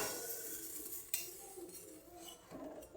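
A lid comes off a pot in which an eggless vegetarian cake is baking, giving a light metallic clink near the middle and another sharp clank at the end, with soft kitchen rattling and no talking.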